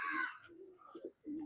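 Pigeons in a loft give soft, low coos in short bursts, interspersed with a brief higher chirp and a few faint chirping notes, close and fairly quiet.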